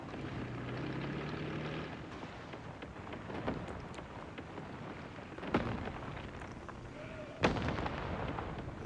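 Video game gunfire: a few loud, isolated shots crack over a constant rumbling engine drone, with a sharp blast near the end.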